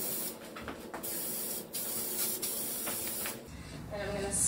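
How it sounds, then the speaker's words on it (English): A can of spray adhesive hisses in several bursts, broad and airy, close by, with a longer steady spray toward the end. "Shake up my spray adhesive."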